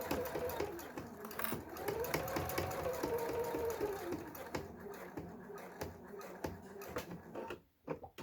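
A home sewing machine stitches along the edge of a fabric minimalist wallet, a steady close whirring hum with rapid needle clatter that slows and stops near the end.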